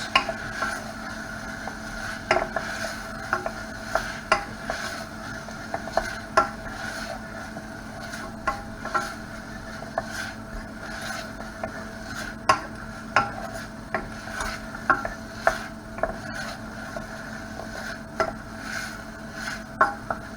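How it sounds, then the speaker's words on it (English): A steady hiss of onions and vegetables sizzling in hot oil in a pan, with scattered light clicks and scrapes from stirring throughout. "you should be able to hear it cooking, the sizzle of the oil"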